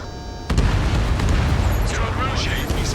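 Heavy explosions and gunfire from an Ace Combat 7 air combat battle, a sudden loud blast then a sustained rumbling roar of booms, with voices talking over the din.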